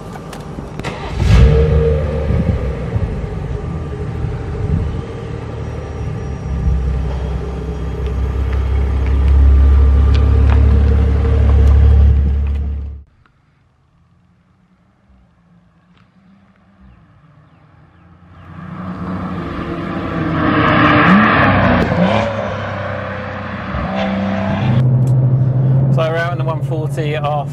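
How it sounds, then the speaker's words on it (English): A BMW M140i with upgraded anti-roll bars drives along, its engine and a steady roar of tyre road noise loud and close, falling briefly to near silence before the road roar builds again. "You have to excuse the road noise from these tyres"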